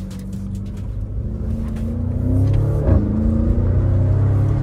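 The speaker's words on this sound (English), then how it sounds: "Porsche Turbo GT on the track." A Porsche Cayenne Turbo GT accelerates on a race track, its engine rumbling and building in pitch as it passes at moderate distance, with a swelling roar partway through.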